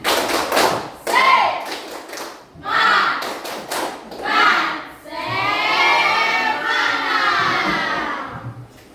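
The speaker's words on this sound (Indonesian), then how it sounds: "Tepuk semangat" A group of students in a classroom performs the rhythmic Indonesian tepuk semangat spirit clap, several patterned bursts of claps and thumps, followed by a long stretch of shouting and cheering voices.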